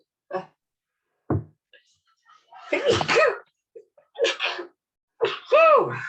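A single sharp sneeze bursts out among scattered short sounds and brief voices, close and fairly loud, followed by quiet talk.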